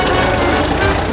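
A tractor engine labours steadily as it climbs a hill on a Douro road during a cycling gran fondo, its loud, continuous rumble close and unbroken for the whole moment.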